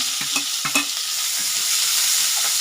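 Onions, green chillies and curry leaves fry in a pan with a steady loud sizzle, while a spoon scrapes and stirs a few times near the start, close and without any talk.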